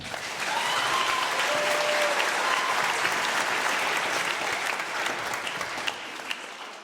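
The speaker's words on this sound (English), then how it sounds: "Round of applause for Jacob here." Audience applause at a high school honor band concert welcoming a junior trumpet player, a steady dense wash of clapping sustained throughout, with a few faint whistle-like tones early on.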